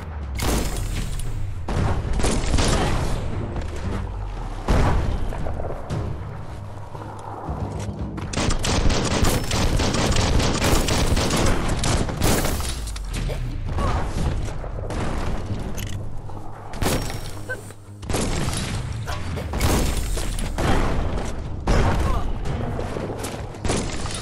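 Bomb lobber enemy explosions in the video game Biomutant, repeated heavy booms and rattling blasts in dense clusters with brief lulls, loud and close, mixed with game sound and occasional talk.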